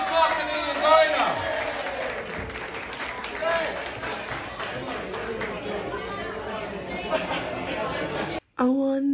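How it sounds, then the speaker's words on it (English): Audience at an Edinburgh Fringe comedy show clapping and cheering in a room, a steady burst of applause mixed with crowd chatter and voices that cuts off near the end. "Round of applause, Abby Clark for the designer!"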